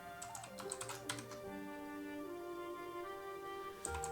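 Clicky bursts of keys being pressed on a computer keyboard, quick irregular taps clustered at the start and end, faint and close, with a steady background hum in between.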